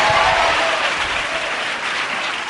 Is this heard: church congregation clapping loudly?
yes